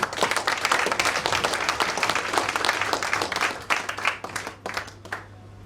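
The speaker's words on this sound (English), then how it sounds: "Please give him a round of applause." Audience applause at a Kiwanis installation ceremony, a crowd clapping steadily and moderately loud for several seconds before thinning into scattered individual claps, with a low hum beneath.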